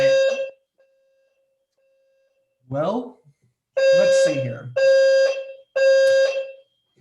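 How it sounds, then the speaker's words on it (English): A fire alarm goes off in loud, evenly repeated tonal blasts that alternate with short gaps, close and harsh, and a voice speaks briefly between the early bursts. "if there's a fire alarm going off as a healthcare provider, I should probably tell you to pause"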